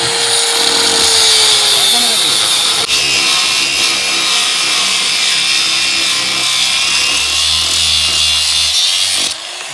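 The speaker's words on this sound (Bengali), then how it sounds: "একটা নাট কাটতে হবে আর তার জন্য গ্রাইন্ডিং নিয়ে নিছি" An angle grinder cutting through a metal nut, a loud continuous high-pitched whine with a slight pitch droop as the disc bites, running for nearly ten seconds before stopping abruptly.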